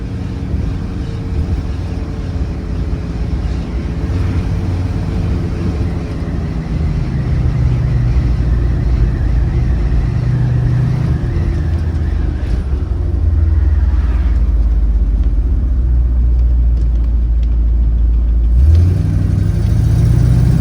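A 1964 Ford Galaxie 500XL convertible cruising at about 45 mph, its engine a steady low rumble with constant road and wind roar throughout and a brief dip and shift near the end.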